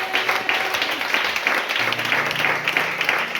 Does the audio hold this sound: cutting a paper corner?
no